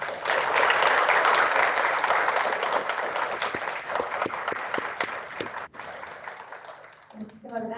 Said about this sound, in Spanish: Les pido a los que nos acompañan aquí que demos un fuerte aplauso a cada uno de ellos.